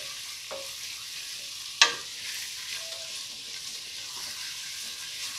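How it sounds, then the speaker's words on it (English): Butter and flour worked together into a roux in a hot pan for beef stew, a steady low sizzle with a few sharp scrapes and clinks of the utensil against the pan, and no talking. "I'm working in my butter and my flour. And what that's doing is it's making a roux"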